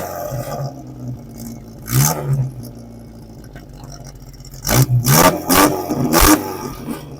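A 1956 Fiat Select with a four-speed column-shift transmission runs nearby, with its engine rising in several short revs between quieter idling stretches and the mechanical noise rough and uneven.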